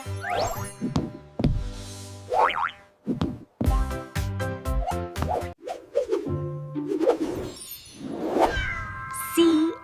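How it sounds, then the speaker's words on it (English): Cartoon-style cat meows rise and fall within a bouncy children's alphabet song, mixed with springy boing and plop effects and sung tones. "C is for cat."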